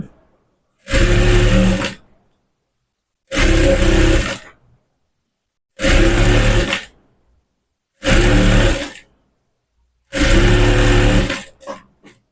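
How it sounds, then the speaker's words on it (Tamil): A sewing machine stitches a blouse in five separate bursts of about a second each, evenly spaced and separated by silence, each one a loud, close, dense mechanical whir. "இப்படி தையல் போட்டுங்க."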